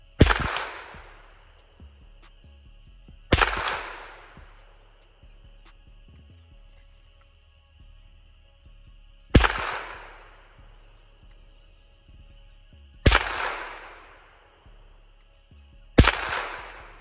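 Five sharp gunshots from a handgun fitted with a red dot optic, fired at small swing targets at longer range, each crack trailing a short echo and spaced several seconds apart with quiet between.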